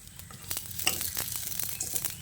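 Flour dough balls frying in a pan, giving a soft continuous sizzle with a few light stirring knocks and clicks, fairly quiet and steady, with no talking.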